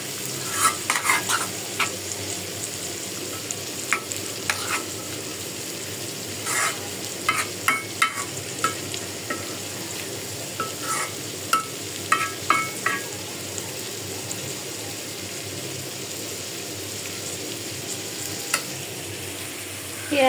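Dried fish sizzles in a pan with onion and garlic, a low, constant frying hiss broken by frequent sharp scrapes and clinks of a spatula stirring, with no voices.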